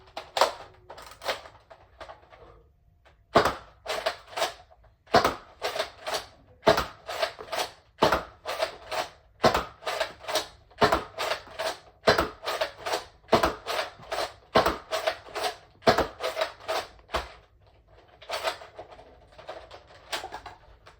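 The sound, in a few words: Nerf Zombie Strike Slingfire blaster firing darts from a 10-round magazine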